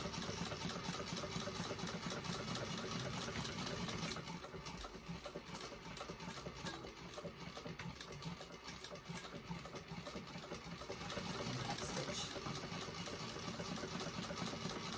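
A sewing machine runs steadily while top stitching a bag, its rapid needle chatter forming a continuous mechanical buzz that eases slightly for a stretch in the middle before picking up again.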